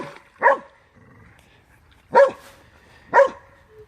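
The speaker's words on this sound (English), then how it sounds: "The dog's just going to bark for eternity." A dog barks beside a creek outdoors, three loud separate barks spaced about a second or more apart with quiet gaps between, the background faint.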